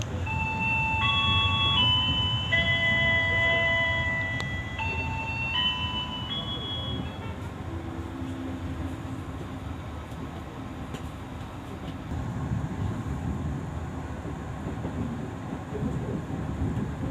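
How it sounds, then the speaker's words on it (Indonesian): Jayabaya passenger train pulling into Sidoarjo station, a steady low rumble of rolling wheels under bright, sustained chime-like tones and station announcement signals early on, continuing as an even drone with occasional clanks. "saat ini kereta api Jayabaya telah tiba dan berhenti di stasiun Sidoarjo"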